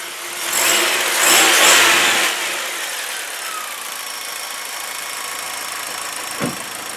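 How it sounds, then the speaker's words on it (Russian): A Chery Bonus car engine is started and runs, its sound swelling briefly before settling into an even, steady idle with a faint high whine and one small knock near the end. "Ну, двигатель нормально работает, ровно."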